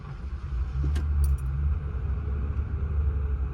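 A 1990 Lincoln Town Car engine catches and settles into a steady, close low rumble, with a brief metallic jingle of keys near the start.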